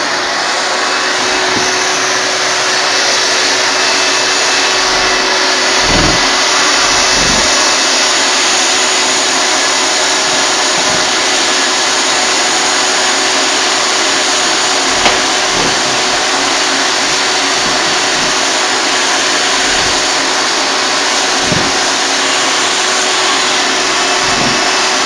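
A vacuum drywall sander working across a drywall surface, a loud steady motorized whine and rushing suction with occasional scraping thumps, continuous and close, with no talking.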